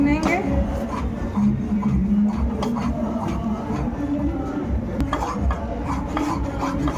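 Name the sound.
stirring wheat flour roasting in a pan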